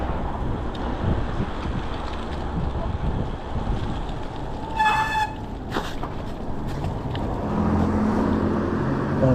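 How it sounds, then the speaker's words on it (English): A brief high, ringing squeal from squeaky e-bike brakes rises mid-ride for under a second, over steady wind rush and distant street traffic in Paterson/Hawthorne, New Jersey. "Oh, my brakes are real squeaky."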